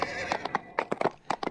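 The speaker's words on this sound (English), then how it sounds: "So I want to call up my horse." A summoned horse in a fantasy video game whinnies and trots in, with clear neighs and a quick, uneven clip-clop of hooves, close and fairly loud.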